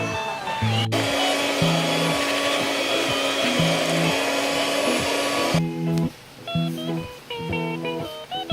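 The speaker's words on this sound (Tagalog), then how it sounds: "i-mix na natin itong mixture gamit itong hand mixer" An electric hand mixer whirs steadily through chocolate cake batter, a loud continuous motor drone that runs for most of the stretch, then breaks into shorter bursts with brief pauses as it stops and restarts.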